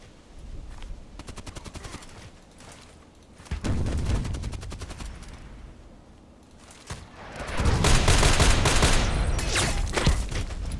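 Gunfire in a shooter video game: bursts of rapid automatic fire crackle in clustered volleys, quieter at first, then swelling into a loud, sustained barrage of repeated shots toward the end, with no talking.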